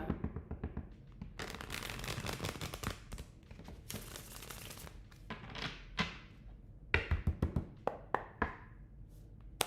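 Tarot cards being shuffled during a reading, heard as bursts of riffling and crisp card slaps, with repeated sharp taps toward the end, close by and without talk.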